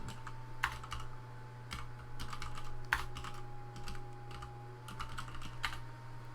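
Keys clatter on a computer keyboard in irregular bursts with a few sharper key strikes, close and clear over a steady electrical hum, with no voices.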